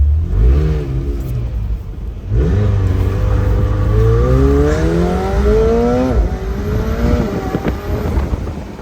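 McLaren 720S Spider drifting: loud engine revving in repeated rising pulls, close and continuous, with wind buffeting the microphone and no talking.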